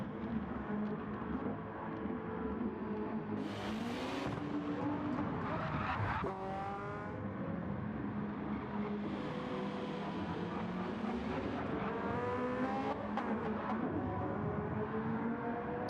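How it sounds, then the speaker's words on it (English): A race car running a time trial lap in a GTO class, its engine roaring continuously and close with rising and falling revs, gear changes and bursts of tire squeal through the corners. "Really just got to drive the car and be so soft on the throttle."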